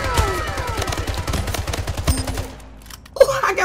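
Rapid gunfire from an arena shooter, Splitgate: Arena Warfare, with dense repeated shots for about two seconds, then a quieter stretch with a sustained tone and a sharp burst near the end.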